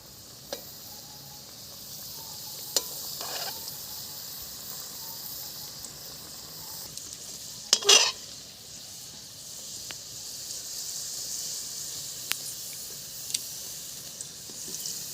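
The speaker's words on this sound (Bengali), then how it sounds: "খুব হালকা হিটে ফিঙ্গারগুলোকে ভাজতে হবে।" Vetki fish fingers fry gently in a pan over low heat, giving a faint, steady sizzle with one brief louder crackle partway through.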